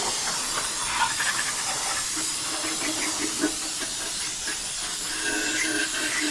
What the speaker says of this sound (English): I'm going to give it a nice rinse with some brake clean